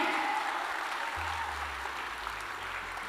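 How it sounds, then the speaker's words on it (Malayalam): An audience at a family day musical night gives a round of applause, a soft, steady wash of clapping heard somewhat distant, with a low hum entering partway through. "അങ്ങോട്ട് ഓരോളായിട്ടൊരു കയ്യടി കൊടുത്തേ."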